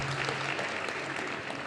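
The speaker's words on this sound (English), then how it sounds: "Round of applause for her, please." A steady burst of applause from a church service congregation, dense clapping at moderate volume with no talking.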